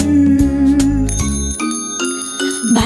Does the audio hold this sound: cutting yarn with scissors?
no